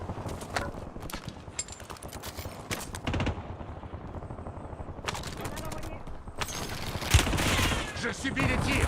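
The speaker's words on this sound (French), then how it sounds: "Je subis les tirs." Rapid bursts of gunfire crackle through a Call of Duty Warzone Resurgence match, with dense volleys and sharp single shots spread across the clip, loud and close at times, while game voice lines speak over the shooting.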